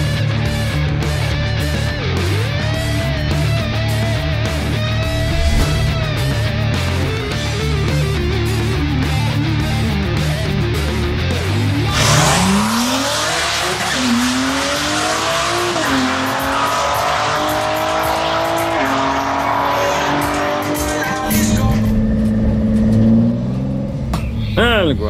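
An 800hp turbo race car idles and revs with a throbbing engine note, then breaks into loud tire squeal and rising revs as it warms its tires, with voices talking over it.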